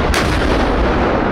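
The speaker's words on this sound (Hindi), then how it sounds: "उनको 21 तोपों की सलामी।" A single booming cannon shot from a 21-gun salute bursts out and rolls on as a loud, sustained rumbling blast, close and overpowering, with no voices.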